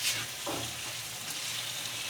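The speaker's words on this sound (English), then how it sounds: "And you can just stir fry it." Broccoli stir-fries in garlic oyster sauce, a close, steady sizzle with a brief scrape of stirring near the start and no voices.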